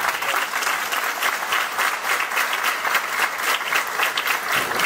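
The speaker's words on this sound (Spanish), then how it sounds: "un fuerte aplauso" Steady, close applause from an audience at a university graduation ceremony, continuous and evenly loud throughout, with no speech over it.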